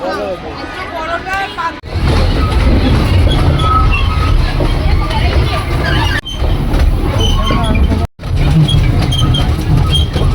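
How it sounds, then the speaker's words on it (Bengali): Toy train ride at Nicco Park amusement park in Kolkata, a loud close rumble and clatter of the moving train with people talking over it, broken by two brief dropouts. "উঠে গেছি ট্রেনে টয় ট্রেনে"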